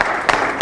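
Brief, dense audience applause for a comrade at a gathering, a steady rush of many hands clapping with a couple of sharper swells.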